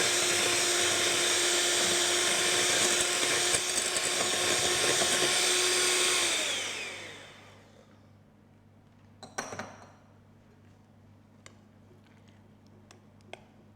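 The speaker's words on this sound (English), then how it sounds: "you beat it with the electric beater until it has a homogeneous or smooth texture again" Electric beater whirring steadily as it beats custard in a bowl, a loud continuous motorized drone for about six seconds before spinning down, followed by quiet with a few faint clinks.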